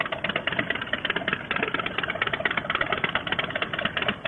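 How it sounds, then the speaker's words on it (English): Motorcycle engine running steadily with a dense, even mechanical chatter and slight rattle, close and loud, with no talk over it. "Bike seems to be running okay."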